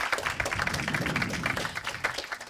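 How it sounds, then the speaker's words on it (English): Audience at a startup night event at Goto 10 in Linköping clapping, a dense patter of many hands that holds steady and moderately loud throughout. "huge appreciation clap for this team"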